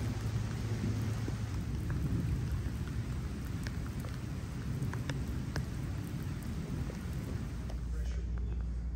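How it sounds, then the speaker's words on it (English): Steady rain pours down with a constant hiss while low thunder rumbles underneath, a few distinct drips standing out; no talking. "when it's hot and humid outside, you get pop-up storms. A little bit of a rain delay."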